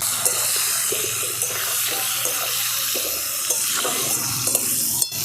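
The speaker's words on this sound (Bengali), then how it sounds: "এরপর আমি যে আলুগুলো কেটে রেখেছি আলুগুলো ভেজে নেব।" Cut potatoes fry in hot oil in a kadai with salt and a little turmeric, a steady sizzle broken by light clinks and stirring scrapes, close and moderately loud with no voices.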